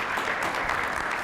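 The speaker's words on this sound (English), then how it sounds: "Give her another round of applause." Audience applause at a restorative justice summit, a steady dense wash of many hands clapping throughout the short stretch, fairly loud and without talk.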